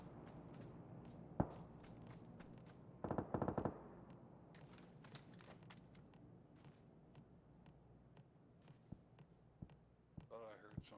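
Gunfire in the video game PUBG, played on Xbox, comes as a short rapid burst of automatic shots with a few scattered single cracks around it, under a player's voice chat.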